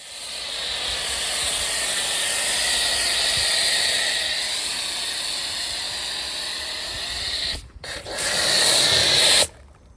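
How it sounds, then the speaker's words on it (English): Snow foam sprayed across a car during a winter wash, a loud steady hiss running for most of the stretch, briefly broken by two short pauses near the end before spraying resumes. "I'm just going to go and spray this all over the car"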